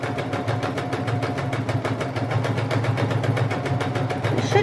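A sewing machine stitches a dense buttonhole, a fast even mechanical chatter of needle strokes with a steady motor whir underneath, close and continuous without speech.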